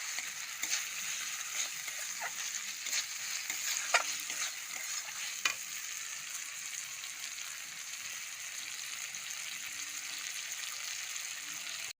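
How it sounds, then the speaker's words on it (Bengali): Spice paste being stirred and fried in a pan for a spicy straw mushroom curry, a steady faint sizzle with occasional spoon scrapes and taps, continuous throughout with no talk. "দিয়ে ভালো করে নাড়াচাড়া করে কষা করব"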